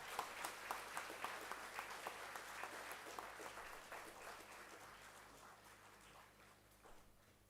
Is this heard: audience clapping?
yes